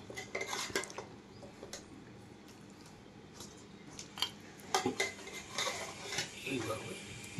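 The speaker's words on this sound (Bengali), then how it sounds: "এইভাবে এইটাকে উলট পালট করে করে কিছু মশলা দিচ্ছি।" A utensil scrapes and clinks against a pot as chicken biryani is turned over with spices. The strokes are close and irregular over a quiet background, growing busier toward the end, with no talking.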